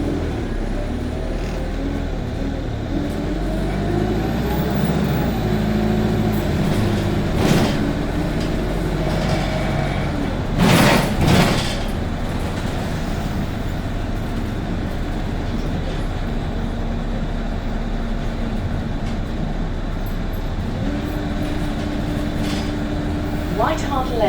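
A Go Ahead London ADL Enviro 200 bus runs with a steady low engine drone and rumble throughout, a few brief clunks and rattles near the middle, and a voice speaking over it.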